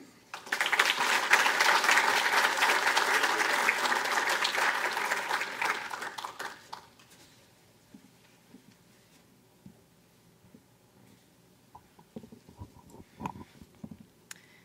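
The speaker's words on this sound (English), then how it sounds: "welcome up with a big round of applause the 2019 Miss Congeniality, Isabella England" A crowd at the Belle Plaine Bar-B-Q Days 2020 coronation applauds to welcome the 2019 Miss Congeniality: a loud, dense burst of clapping for about six seconds that fades out, leaving faint scattered noises afterward.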